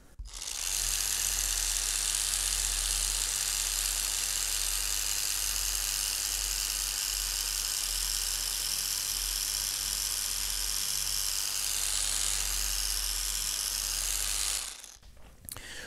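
A Liquid Elements A1000 mini cordless polisher with variable speed runs on a car B-pillar, giving a steady, loud mechanical whir that holds for about fourteen seconds before cutting off abruptly.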